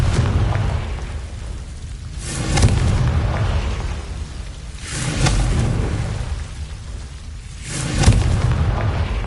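Repeated spell blasts from the Hogwarts Legacy video game: three deep, rumbling booms with sharp bursts, spaced a few seconds apart over a low continuous roar.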